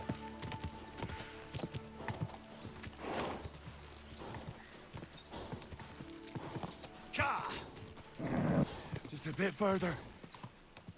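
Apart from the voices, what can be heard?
horse galloping hooves in video game Kingdom Come Deliverance II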